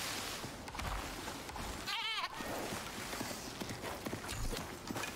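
A goat bleats in the Icarus video game, a short wavering bleat over dense game ambience and footfall-like clatter, fairly faint in a busy mix.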